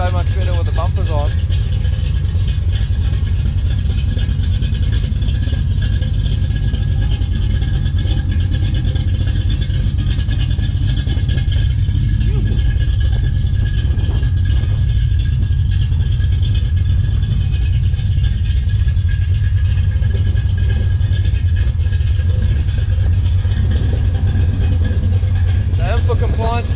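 A 1964 Ford Galaxie with a 460 big-block V8 runs after a cold start, with a loud, steady, deep idle rumble close by and slight revving swells, while voices talk over it.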